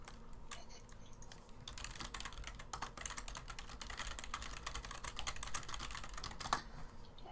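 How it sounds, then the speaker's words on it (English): Loud computer keyboard being typed on continuously, rapid clacky keystrokes in irregular bursts, close to the microphone against a quiet background. "You guys hear my keyboard?"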